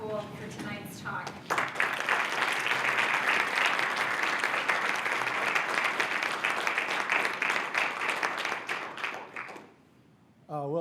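An audience at a lecture breaks into sustained applause welcoming speaker Juan Cole, a steady wash of clapping that fades out near the end, with brief voices at the edges.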